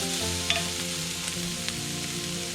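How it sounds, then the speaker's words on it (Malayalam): Shrimp sautéed lightly in a pan for shrimp thoran, a coconut shrimp stir fry, giving a soft, even sizzle throughout with a steady tonal hum beneath and faint stirring ticks. "അതുകൊണ്ട് ഞാനിതൊന്ന് ചെറുതായിട്ടൊന്ന് വഴറ്റുന്നു"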